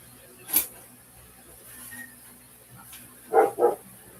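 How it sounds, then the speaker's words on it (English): Dogs outside bark in short, separate yelps, a single bark early on and a quick pair near the end, moderately distant over a quiet night background. "I'm going to go take a few seconds to check on my dogs outside"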